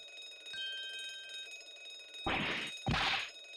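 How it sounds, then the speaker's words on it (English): An alarm bell in the Great Ace Attorney Chronicles game gives a brief ringing tone, then two loud, bright clanging bursts, each lasting about half a second and with a shimmering metallic tail, over a faint musical background. "This would appear to be an alarm bell. All hell would break loose if that thing were to ring."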